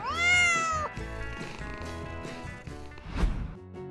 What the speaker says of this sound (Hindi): ये बिल्ली के साथ खेलने का समय है।